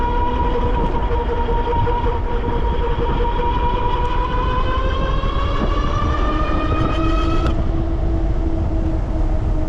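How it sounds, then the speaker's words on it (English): Ariel Rider Grizzly dual-motor e-bike accelerating hard, a rising electric motor whine climbing steadily in pitch over loud constant wind and road rush, then dropping abruptly near the end. "the front motor is definitely louder than the rear"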